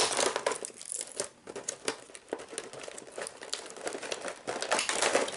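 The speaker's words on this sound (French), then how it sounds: "me débarrasser rapidement du scotch sans vous détruire les oreilles avec le bruit du plastique" Packing tape peeled off several layers of plastic wrap on a board game box: a continuous stream of close, crackly rustling, with sharper pulls and rips scattered throughout.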